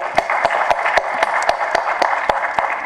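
An audience at a film audio launch event applauds, a quick run of sharp, loud, evenly spaced claps carrying through the hall.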